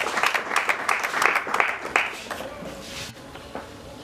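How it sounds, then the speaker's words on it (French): Church congregation clapping and applauding at a birthday celebration, a dense burst of claps that fades over a few seconds, with voices mixed in underneath. "Est-ce qu'on peut acclamer pour la gloire de notre Seigneur?"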